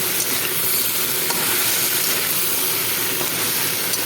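Potatoes and eggplant fry together in hot oil, giving a steady, close, continuous sizzle with a dense hiss and faint stirring scrapes throughout.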